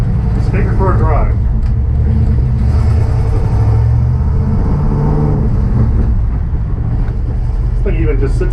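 Jeep Grand Cherokee ZJ gasser rumbling along on a drive, a steady low engine drone with road and cabin noise, someone talking over it now and then.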